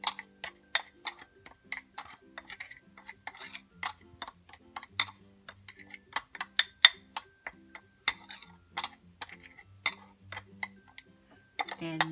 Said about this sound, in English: Now let's just mix this all together.